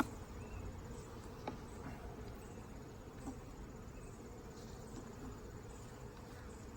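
Honeybees hum in a low, faint, continuous drone around an open hive, with occasional soft clicks and knocks from handling the frames and no speech.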